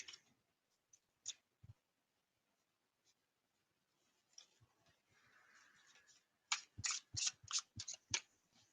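Tarot cards are handled and shuffled in a quiet room: scattered soft ticks and rustles early on, a faint sliding swish, then a close run of sharp riffling snaps near the end.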